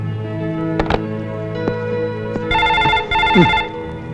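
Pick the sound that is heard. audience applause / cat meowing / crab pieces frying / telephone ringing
telephone ringing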